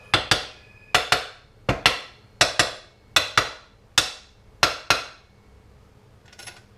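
Repeated sharp metallic taps while a crank is knocked into place during assembly, about ten crisp hammer-like strikes in quick pairs, fairly loud and close with no talk over them.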